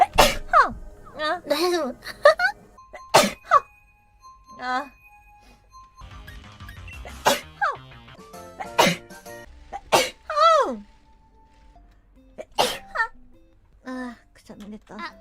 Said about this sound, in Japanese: くしゃみ出た。